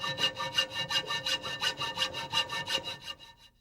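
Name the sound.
hacksaw cutting 1-inch steel angle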